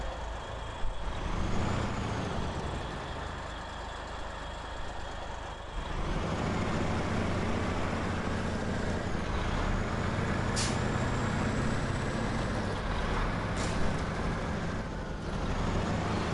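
A heavy truck engine rumbles steadily in SnowRunner, an off-road driving game set around Chernokamensk, with a trailer pack fitted, and sharp air brake hisses burst out briefly near the end.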